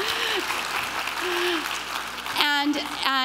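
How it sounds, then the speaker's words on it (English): Audience applause at a 2012 university library and information science convocation ceremony, a steady wash of clapping that runs throughout, with a voice speaking over it near the start and again toward the end. "let's give them all a round of applause"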